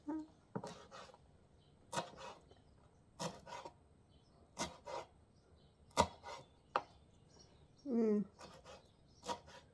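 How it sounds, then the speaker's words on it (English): A knife chops fresh coriander on a board for hot king prawn soup. It lands as a string of sharp, separate taps at an uneven pace, close and crisp, with faint kitchen noise between the strikes. "I'm going to cut the coriander."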